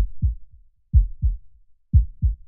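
Deep, thumping double heartbeats, lub-dub pairs repeating at a steady pace, close and low with brief silences between each pair.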